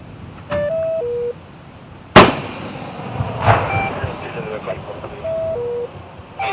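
A 122 mm artillery shell is fired with one sharp, loud blast followed by a rumbling tail. Radio talk and tonal beeps sound before and after it.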